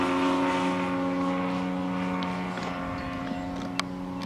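A model airplane engine on a 200 carb test runs at half throttle during takeoff, giving a steady droning buzz with strong even tones, holding constant and easing slightly toward the end, with a faint click near the finish.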